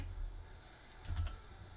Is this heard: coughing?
no